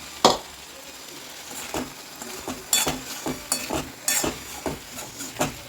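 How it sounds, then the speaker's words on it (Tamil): Fried potato and capsicum being stirred into a masala in a pan, with a series of scraping, clinking spoon strokes against the pan over a faint background sizzle, close and moderately loud. "இப்போ நம்ம இதில் வறுத்து வச்சுருக்க எல்லாத்தையுமே இதில் சேர்த்து நல்லா கிளறிக்குவோம்"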